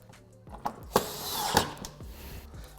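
A power driver briefly whirs in short bursts, driving a screw into a C7 Corvette undertray during an ACS Z06 splitter install, with faint clicks and handling noises around it.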